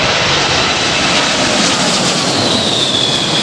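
A Boeing 747 powered by Rolls-Royce RB211-524H engines roars loud and close, a steady broadband jet rumble with a thin high whine rising near the end, continuous with no voices.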